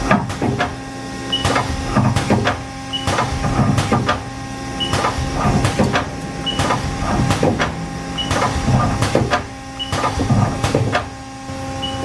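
A 1999 Haas TL-15 CNC lathe indexes its turret in repeated cycles, with mechanical clunks and whirring bursts about every second over a steady machine hum, fairly close and loud, with no talking.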